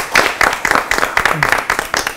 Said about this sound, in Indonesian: Tepuk tangan sekali lagi, semua biasa ya.